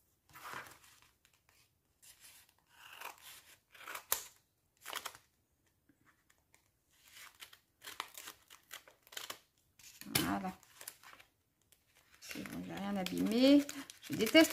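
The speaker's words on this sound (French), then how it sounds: "Je déteste ouvrir avec mes ciseaux" Several short bursts of snipping and tearing close by, scattered with pauses, ending in a louder stretch of crinkling and rustling.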